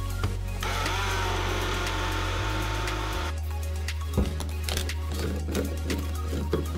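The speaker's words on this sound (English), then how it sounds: "now we're gonna pop this on the blender and blend until smooth" A countertop blender whirs steadily at full power through strawberry vegan matcha latte ingredients with sugar, loud and continuous before the motor pitch drops and the run winds down into rattling clatter.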